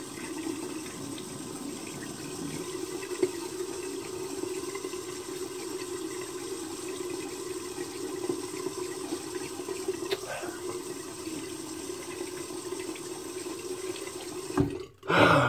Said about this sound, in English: rinse the razor. And I rinse my face off.